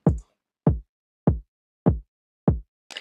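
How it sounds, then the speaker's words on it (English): Five evenly spaced, punchy electronic kick drum hits with deep low-end thumps, played alone with silence between them, ending in a short noisy burst, an Afrobeat kick pattern programmed in FL Studio. "first one I play is kick"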